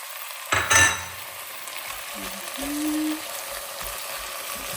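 Chicken pieces for chicken menudo sautéing in a pan: a loud burst of sizzle as they go in, then a steady low frying hiss with a few clinks and scrapes of stirring.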